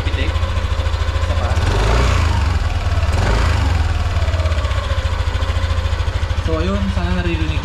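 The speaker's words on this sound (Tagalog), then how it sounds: "Tapos pag idle, ayan, may pa isa-isang pitik." A Yamaha NMAX V2 scooter engine idles close by with a steady, even pulsing throb that has an occasional tick, and a voice comes in briefly near the end.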